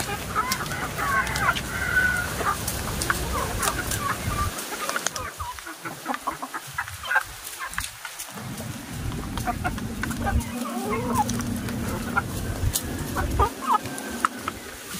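Newly bought colorful chicks peep and cluck constantly at close range in a lively, busy chorus, with occasional louder fowl calls standing out.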